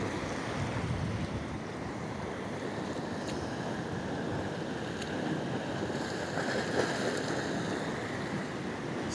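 Sea water rushes continuously into a rock pool on a rocky shore, a steady broadband wash of surf and flowing water mixed with wind noise, with no speech.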